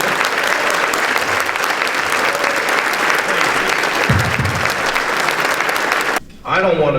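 Loud, sustained crowd applause for a governor at Crown Reef, steady clapping for several seconds that cuts off abruptly near the end, followed by a voice speaking.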